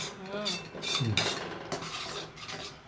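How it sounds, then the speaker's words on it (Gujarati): A thick gundar paak mixture is stirred in a heavy thick-bottomed pot over a low flame, with scraping, rubbing strokes of a spoon against the metal and faint sizzling. "ધીમા ગેસ ઉપર આપણે બે ત્રણ મિનિટ આ રીતે મિક્સ કરશું"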